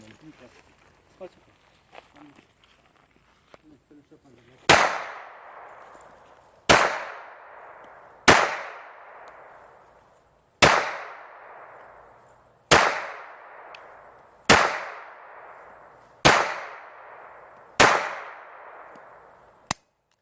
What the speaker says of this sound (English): All right, magazine number 3. I want to see him shoot this mag out.